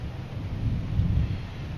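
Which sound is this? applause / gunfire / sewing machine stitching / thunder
thunder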